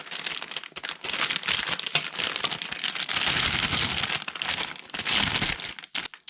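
A plastic piping bag filled with buttercream for mermaid cupcakes is crinkled and handled up close in continuous bursts of crisp crackling, with no speech.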